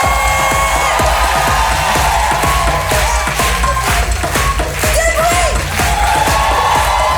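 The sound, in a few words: audience cheering and applauding for a comedian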